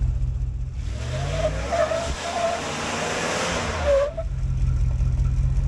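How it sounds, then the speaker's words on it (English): A Land Rover Discovery's tire spins and squeals off-road for about three seconds, a loud broadband whine over the revving engine, with idling rumble before and after. "I think the front passenger tire is the only one spinning."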